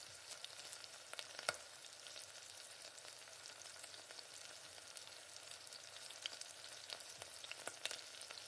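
A pinch of asafoetida powder sautés in a pan, a faint, even frying crackle with a few soft taps from stirring.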